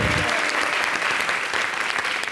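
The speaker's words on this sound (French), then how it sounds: "Applaudissez. Applaudissez." A studio audience on a French-language Ivorian TV show applauds after news of a World Cup basketball win over Iran, loud dense clapping filling the space evenly from start to finish.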